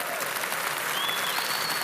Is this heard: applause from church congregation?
yes